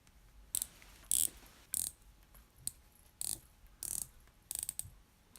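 The ratcheting dive bezel of a Casio MDV-106 Duro wristwatch is turned in about eight short bursts of crisp clicks, close up and quiet, with brief pauses between the turns.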